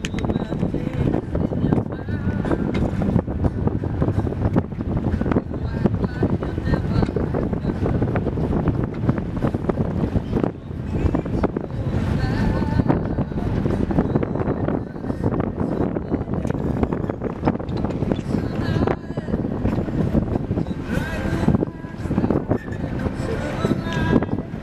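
A gust of wind buffets a sailboat at sea, roaring steadily into the microphone with surging rushes over the whole stretch, while voices talk intermittently over it.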